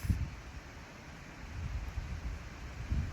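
Wind blows steadily in the background as a low, rumbling rush of wind noise, gusting gently and continuing without a break and with no voices.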